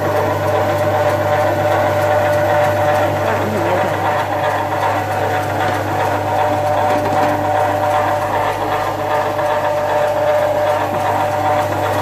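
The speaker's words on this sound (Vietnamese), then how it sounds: "Bây giờ mình sẽ bật điện để xem cái motor này nó chạy như thế nào." The electric motor of a stainless steel meat slicer running steadily, a loud continuous mechanical hum with a low drone and a faint rattling whir throughout, close and unbroken.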